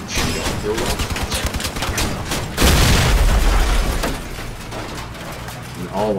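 Gunfire and explosions in the vehicle combat game Crossout: rapid rattling volleys, then a heavy booming blast with a rumbling tail fading into steady engine drone, loud and close.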